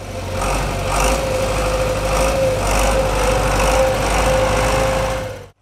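A tractor clearing snow from village streets runs loud and close, its engine holding a steady, slightly throbbing drone with a constant whine before cutting off abruptly at the end.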